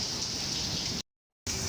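Light rain falls in Karachi as a steady, even hiss, briefly cut to silence before resuming.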